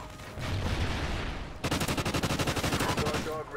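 Gunfire in Call of Duty Ghosts multiplayer: a sustained rattling burst of automatic fire, then a rapid, evenly pulsed machine-gun stream, loud and close, with game noise beneath.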